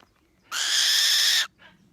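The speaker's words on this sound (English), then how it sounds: "So this is Whisper, the little owl" A single close, loud hoot from a little owl named Whisper, a captive insect-hunting bird of prey, held steady for about a second, then followed by a faint brief trailing note.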